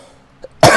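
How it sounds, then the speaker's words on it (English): A single sharp, loud cough from a sportscaster calling a divisional series baseball game, bursting out after near silence and a tiny faint sound just before. "My apologies for coughing there again."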